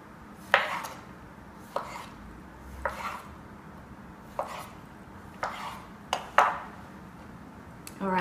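A knife quarters vegetables for a raw vegan marinara on a board, giving about eight sharp, close chopping knocks at uneven intervals with brief faint clinks between them.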